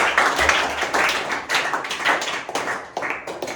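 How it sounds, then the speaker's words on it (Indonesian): Pupils in an eighth-grade classroom clap together in a brief, uneven burst of hand claps, steady and fairly close, fading slightly toward the end. "Ya, tepuk tangan untuk kita semua."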